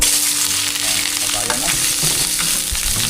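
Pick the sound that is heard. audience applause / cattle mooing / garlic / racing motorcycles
garlic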